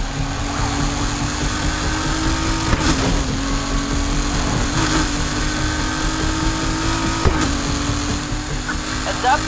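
Car engine during a police chase in a video game, a steady loud droning hum with faint periodic clicks, continuous through the clip.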